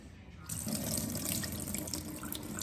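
Water poured out of a pot of rice gushes and splashes steadily into a sink after a quiet start, a continuous pouring rush with bright spattering.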